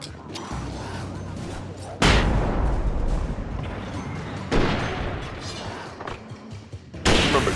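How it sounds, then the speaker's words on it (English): Flashbang explosions in the Alan Wake video game, three heavy booming blasts spaced a few seconds apart, each followed by a dense rumbling decay under a steady low hum. "Remember, those aren't normal flashbangs."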